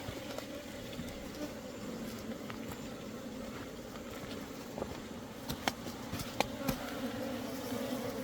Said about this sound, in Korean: 요놈은 동양종인데 크기가 굉장히 커요.